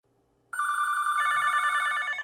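A telephone rings at a police station: one loud, sustained electronic ring with a bright, buzzing tone starts abruptly after a quiet moment and runs close up for almost two seconds.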